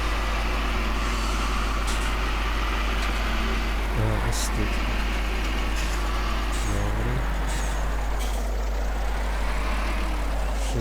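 A tractor engine in a farming simulation game drones steadily at close range, a constant low rumble with occasional mechanical hisses, while someone talks over it.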